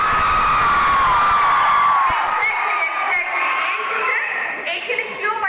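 A college crowd at Lahowal college shouts, whoops and cheers loudly at a film promotion event, with high excited yells rising over continuous crowd noise and a voice speaking through it.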